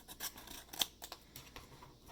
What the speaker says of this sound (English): Definitely got to get a nicer pair of scissors